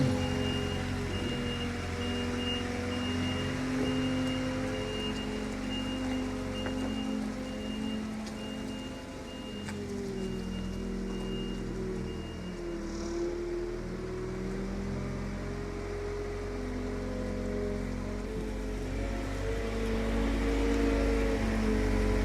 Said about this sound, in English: Bit damp this morning with some rain